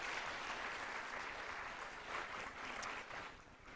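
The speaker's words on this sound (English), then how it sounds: "Let's have a round of applause for Congressman Espaillat." A crowd applauds Congressman Espaillat at an event in the Capitol, a steady, fairly faint wash of clapping lasting a few seconds with a few sharper claps standing out.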